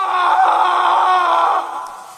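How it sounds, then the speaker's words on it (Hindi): A man gives a single loud, sustained scream lasting about a second and a half, harsh and strained, close and alone, fading slightly at the end. "और फिर अचानक किसी आदमी के चीखने की आवाजें आनी शुरू हो गई।"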